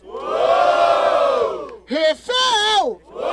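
A rap battle crowd at Batalha da Aldeia in Barueri roars and yells for a rapper, one long sustained cheer followed by shorter rhythmic chanted shouts, loud and close.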